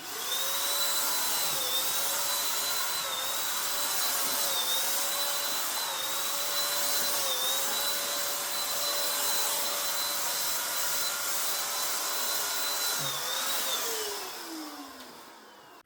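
A cheap electric paint spray gun applies Rust-Oleum pearl paint in a steady, loud motor whine, holding one pitch with small dips as the trigger eases, running alone for about fourteen seconds before cutting off.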